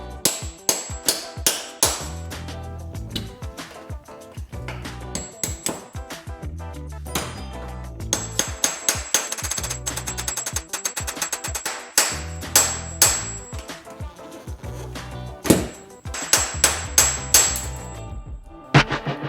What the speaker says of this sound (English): Method number 2, starter punch, Dollar Tree hammer.